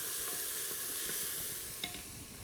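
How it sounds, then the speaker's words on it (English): Diced carrot sautéing in a heated Instant Pot, a steady close sizzle and hiss with soft scraping strokes of a stirring utensil and one brief clink near the end. "So I'm putting in our diced carrot, and I'm just gonna give that a stir."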